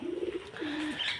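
A single pigeon gives a soft, low coo lasting about a second, faint and fairly close, with no one talking.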